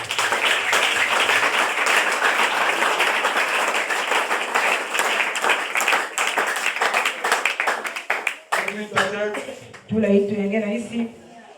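A church congregation applauding during a New Year's Eve sermon, dense sustained clapping for about eight seconds that thins into scattered claps, with a voice and singing emerging as it fades.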